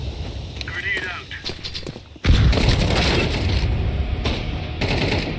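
A grenade blast in Counter-Strike 2 lands as a sudden loud boom partway through, followed by a rumbling wash of gunfire and game noise, with quieter in-game sounds before it.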